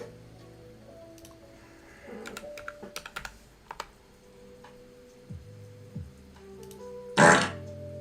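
A fart sound effect from a soundboard blurts out loudly near the end, after a stretch of light keyboard typing and clicks, with no talking.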